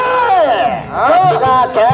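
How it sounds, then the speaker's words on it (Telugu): Spectators at a bullock cart pulling contest in Uttanur bellow and whoop in loud, close, rising and falling shouts that overlap into a short burst of cheering. "గట్టిగా కేకలు చప్పట్లతో"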